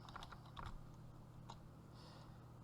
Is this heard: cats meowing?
no